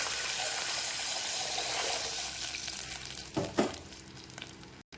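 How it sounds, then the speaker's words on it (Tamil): Steady hiss of ginger and cashews frying in a pan, then a louder surging splash and rush near the end as water hits the hot surface. "நீங்கள் எடுத்து வச்சுருக்க தண்ணியை மூணு டம்ளர் ஊற்றிடலாம்"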